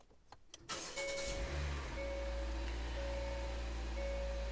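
A Hyundai Elantra engine cranks and catches after its start button is pressed with a key fob, then settles into a steady, loud idle with a faint whine, after a few brief clicks.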